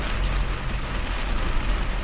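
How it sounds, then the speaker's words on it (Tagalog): Heavy rain pours down during a delivery drive in Mandaluyong, a loud, dense, continuous roar of drops drumming on the vehicle with a low rumble underneath. "Sobrang lakas ng ulan."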